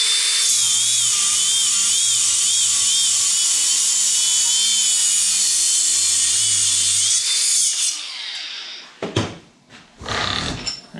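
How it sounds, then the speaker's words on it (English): Large bench grinder rounding off a metal part for a door roller: a loud, continuous high grinding whine close by for about eight seconds, then breaking into shorter uneven bursts as contact stops and restarts. "I'm just going to round it off on the big grinder a little bit"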